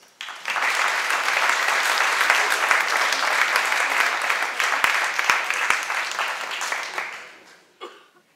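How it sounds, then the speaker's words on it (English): An audience at an elementary school Christmas concert bursts into a long round of warm applause, dense crowd clapping rising quickly, holding for several seconds, then tapering away. "Please give a big round of applause for William Lauder School Band"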